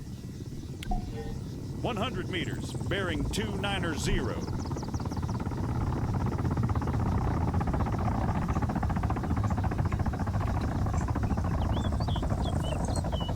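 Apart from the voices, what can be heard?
military helicopter in the video game Arma 3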